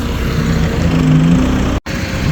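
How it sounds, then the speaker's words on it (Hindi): Tractor pulling a trolley fully loaded with soil away from a demolition site, a steady mid-pitched engine drone that holds fairly loud, with a brief dropout near the end. "और ये ट्रैक्टर जा रहा है अपनी मंजिल की तरफ।"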